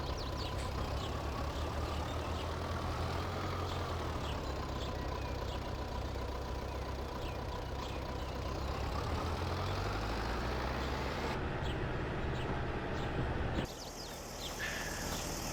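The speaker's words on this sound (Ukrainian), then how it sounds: "Задію ще одного трактора." Tractor engines in the Farming Simulator 22 video game drone steadily at a low pitch throughout, a continuous heavy rumble with a brief tonal shift near the end and no talking.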